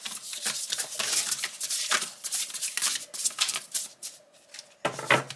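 Tarot cards being shuffled by hand during a reading, a steady run of papery riffles and slaps for several seconds with a brief pause before a final louder burst, close and fairly loud with no talking.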